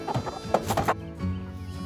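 Twelve-week-old chicks hatched in an incubator cluck and peep in quick bursts while being moved into a barn pen, then settle into a low, steady background murmur.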